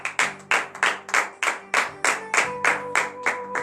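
Rhythmic hand clapping during a morning prayer worship service in Benin, about a dozen sharp claps at a steady tempo, close and clear with no talking.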